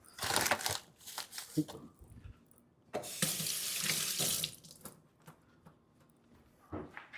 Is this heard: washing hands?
yes